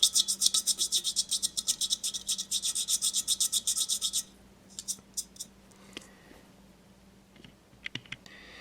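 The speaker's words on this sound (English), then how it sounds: "Alright, so I've planed it down." A blade scrapes rhythmically across cured Hxtal resin on a ceramic repair, about twenty quick, even strokes close by. The scraping stops and a few scattered soft taps and clicks follow.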